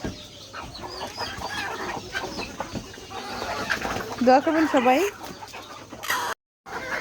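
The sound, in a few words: farm chickens clucking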